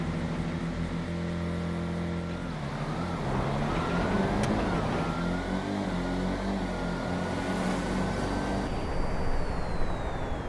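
Two stanced ASP cars in a GTA street drag race give a steady, loud engine drone that shifts pitch after a couple of seconds, then climbs through rising gear notes with no one speaking.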